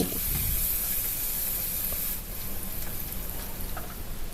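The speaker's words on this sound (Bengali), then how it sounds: "কড়াই গরম করে কড়াইতে তেল দিয়ে আমি হাই ফ্লেমে কুচনো পেঁয়াজগুলো ভেজে বেরেস্তা তৈরি করে নিয়েছি" Chopped onions fry in hot oil in a pan on high flame, a steady loud hissing sizzle that eases slightly partway through, with a few faint clinks and no talk.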